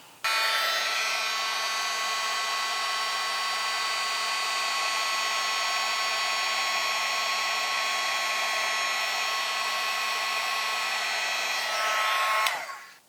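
A heat tool blows a steady, loud, whirring stream of hot air to melt clear embossing powder on a card, running continuously for about twelve seconds before clicking off abruptly.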